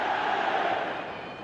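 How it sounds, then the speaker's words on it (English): Stadium crowd roaring and cheering in eFootball 2026, a loud sustained mass of voices that swells then eases slightly toward the end. "the crowd level has gone up a notch or 10"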